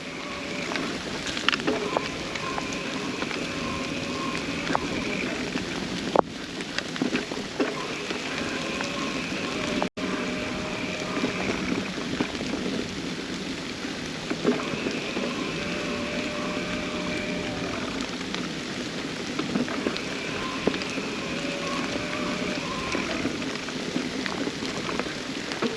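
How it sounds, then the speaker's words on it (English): Steady rain patters and hisses throughout a cross-country mountain bike ride, mixed with wind and the rolling noise of the bike, with a couple of sharp knocks along the way. "Raining with the sun out."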